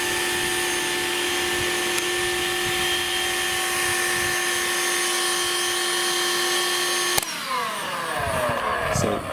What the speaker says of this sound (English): that's what the Hoover sounds like while it's on